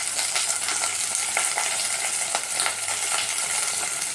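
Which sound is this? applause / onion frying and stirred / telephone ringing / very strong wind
onion frying and stirred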